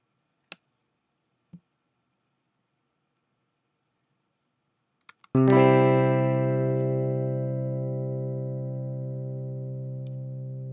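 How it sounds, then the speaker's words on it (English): After a few soft clicks, a synthesizer chord from a flange harp preset in Ableton Live rings out with a shimmering, swirling flanged tone, sustaining and slowly fading. "Flange harp."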